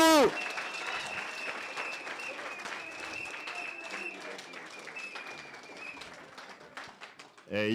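A crowd at a football club dinner hosted by a county governor breaks into sustained applause, a dense, steady patter of many hands that fades out near the end as a voice returns.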